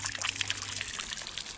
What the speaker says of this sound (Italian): Dopo aver preso un po' d'acqua fresca da questa fonte così precaria, carina,